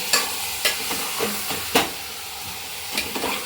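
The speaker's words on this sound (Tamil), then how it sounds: "இதுவும் கொஞ்சம் வதங்குற வரைக்கும் நல்லா கிண்டி விட்டுக்கலாம்" Pieces of citron for pickle sautéed in a pan, a steady close sizzle and hiss broken by several sharp scraping strokes of a spoon as the pieces are stirred, with no talking.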